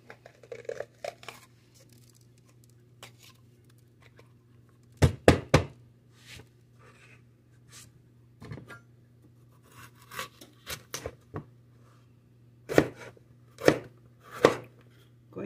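A knife chops a pepper on a cutting board, with sparse, uneven knocks at first, then clusters of sharp cuts, over a faint steady hum in a quiet kitchen.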